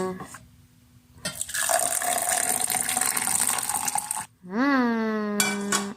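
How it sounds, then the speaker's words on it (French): Boiling water pours into a small thermos holding spices: a quiet start, then a loud continuous gush and fill, a brief pause, and a final pour whose pitch rises as the vessel fills. "nous allons verser l'eau bouillante dedans"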